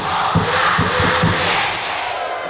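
A class of singers clapping five times together in rhythm, loud and close, with crowd shouts mixed in and the claps fading into cheering noise.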